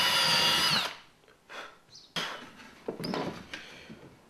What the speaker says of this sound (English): You need to drill a series of holes around the edge of your cutout as close together as possible.